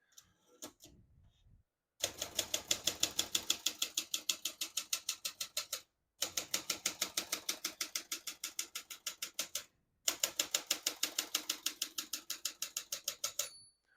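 Rapid, even clacking of a 1965 Olympia SF portable typewriter's keys in three long runs separated by short pauses, crisp and close, with a faint margin bell ding near the end.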